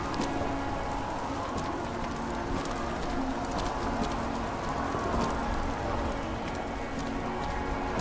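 Steady rain falls in the video game Nobody Wants to Die, a continuous dense hiss of drops on surfaces with a low rumble beneath, with faint bird-like coos scattered through and no speech.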